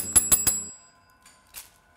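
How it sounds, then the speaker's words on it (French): A small hand bell rings three quick bright dings in a row, close and clear, followed by a fading ring and a fainter single strike after a short pause. "c'est une cloche"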